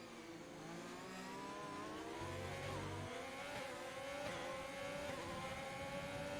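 Williams and Ferrari race cars roar along the Kemmel straight at Spa in a racing video game, a steady engine drone with rising pitch as one car chases the other, no talk.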